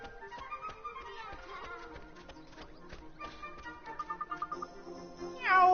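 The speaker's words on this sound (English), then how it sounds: "Let's go and talk to that cat." A cartoonish cat meows in the Ni no Kuni video game over a busy, plucky musical score with light tapping, the meow rising sharply and louder at the very end.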